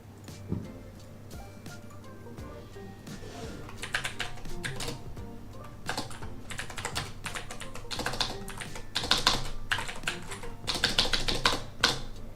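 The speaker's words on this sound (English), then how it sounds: "I hate typing facing this way and typing that way." Close, uneven typing on a computer keyboard, with bursts of rapid key clicks that grow denser and louder toward the end, and no talk over them.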